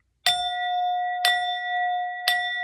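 A sound bell is struck three times at roughly one-second intervals, each hit giving a bright metallic clang followed by a sustained, ringing tone that carries into the next strike, close and alone.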